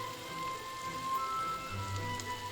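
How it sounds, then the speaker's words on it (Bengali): Pre-fried pieces of elephant foot yam are stirred into a spice mix in a pan, giving a steady, crackling sizzle close by with occasional soft scraping, and no talk. "এখন আমি এই মশলার মধ্যে মিশিয়ে নিচ্ছি আগে থেকে ভেজে রাখা ওল।"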